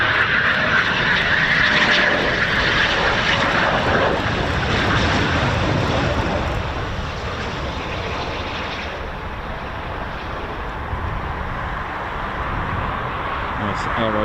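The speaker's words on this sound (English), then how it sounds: "Aero braking there, using the undercarriage." Eurofighter Typhoon FGR4 landing at RAF Coningsby with aerodynamic braking: a loud, continuous jet roar that holds steady and then eases down partway through.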